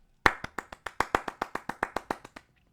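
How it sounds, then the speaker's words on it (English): A single person claps to congratulate a player on reaching the semi-final of the ESOC Challenge Cup in Age of Empires III: Definitive Edition, about sixteen crisp, close hand claps in an even, quick rhythm that trail off. "So big round of applause to Haitch"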